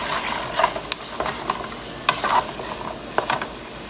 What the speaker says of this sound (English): I'm gonna be mixing the carrots with all the other first ingredients